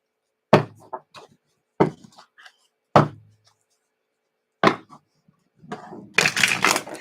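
Sharp papery snaps and slaps of tarot cards being shuffled, four distinct bursts with pauses, ending in a longer riffling rustle, close by.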